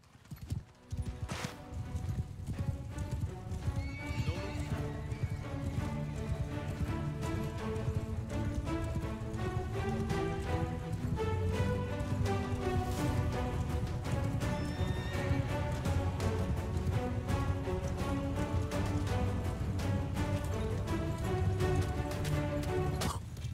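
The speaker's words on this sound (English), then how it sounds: "riding in with our glorious cavalry" Cavalry horses in Shokuho Bannerlord gallop in a steady, dense drumming of hooves, with repeated neighs and whinnies over the top and a music bed underneath. The sound runs loud and unbroken throughout.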